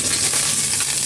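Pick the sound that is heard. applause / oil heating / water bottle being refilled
oil heating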